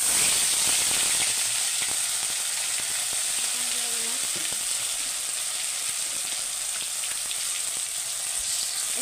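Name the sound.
dry red chili and black cumin tempering sizzling in oil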